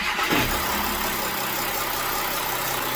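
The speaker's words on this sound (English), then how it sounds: "You just want to let it idle, low pressure, and just let it sit there, let it do its clean." A VW Amarok V6 engine idles during a service with an engine flush running, a steady mid-pitched hum with faint mechanical ticking, heard close up and unbroken throughout.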